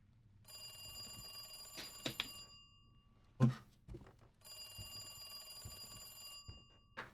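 In Resident Evil 2, a telephone rings in two long bursts with a thud between them, its bell tone bright and steady against quiet game ambience.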